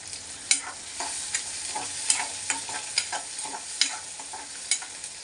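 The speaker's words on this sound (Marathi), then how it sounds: "कांदा त्याला हलवून हलवून घ्यायचं" Onions frying in oil with garlic and chili in a pan, stirred repeatedly with a utensil, giving soft scraping clinks over a steady close sizzle and no talking.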